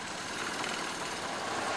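A Ford Model A car engine running in second gear gives a steady, even drone with broad road and wind noise, heard from inside the moving car.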